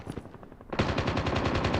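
Sustained machine gun fire in the mobile shooter game Call of Duty Mobile, a loud, rapid, steady burst of shots that starts abruptly after quieter scattered gunfire, with no talk over it.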